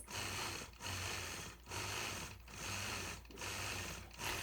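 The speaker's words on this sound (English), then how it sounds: "I'll continue stitching those little point-to-point curves all the way around until I have that quilt block completely quilted" A sewing machine free-motion quilting small point-to-point curves on tiny quilt blocks, running in steady bursts of rapid stitching with four short pauses between them, close and clear with no talk.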